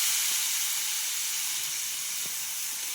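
Fresh shepu (dill) greens hit a hot pan already seasoned with chilli powder, turmeric and salt, giving off a steady, close hissing sizzle that holds evenly throughout with a few soft clicks and no talking.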